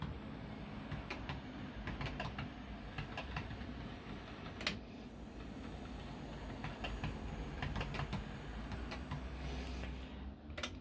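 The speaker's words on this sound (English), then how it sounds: "you can hear it go clickety clack over the rails" A ViTrains Class 47 model locomotive running on a track with no motor noise, its wheels giving faint, repeated clicks over the rail joints in an irregular rhythm above a low, steady background rumble, with no talking.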